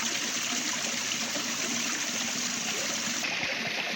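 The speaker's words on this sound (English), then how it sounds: "Oh, I found running water." Running water of a small stream on a hillside wild-camping hike burbles steadily and close by, a continuous unbroken wash with no voices over it.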